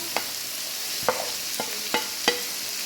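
Mushroom and capsicum are stirred as they fry in a pan, a steady hiss of hot oil with five distinct spatula knocks and scrapes spaced unevenly across the stretch, no talking.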